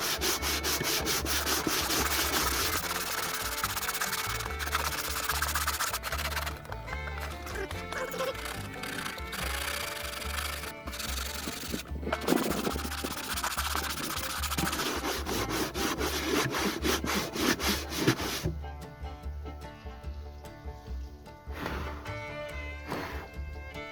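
Sandpaper rubs steadily over the wooden hull of a model tug, a continuous rasping scrape with repeated back-and-forth strokes that stays close and fairly loud, then eases into lighter, thinner rubbing near the end.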